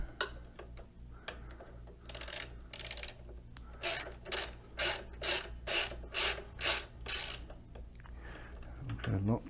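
Wrench tightening bolts on either side of a carbon fiber Go Go Super Portable folding scooter: a run of rhythmic rasping, ratcheting strokes, about a dozen evenly spaced pulses growing steadier, close and moderately loud, with a low background hum.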